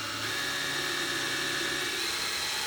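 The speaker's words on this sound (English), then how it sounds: "when I use my hand drill, I can make sure everything is straight and consistent" A hand drill whines steadily as it bores into scrap wood. The sound is a faint, continuous high-pitched motor tone with no talking over it.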